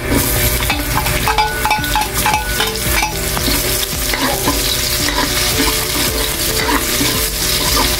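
Onion sizzles loudly in hot oil with garlic as it is stirred in a pan for adobong chicharong bulaklak, a steady close frying hiss broken by rhythmic scraping strokes, no voices.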